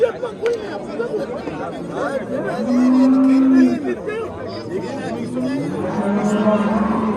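Cows moo in long low calls amid a busy outdoor crowd at the Kattaqo'rg'on livestock market, with chatter and voices of people talking throughout.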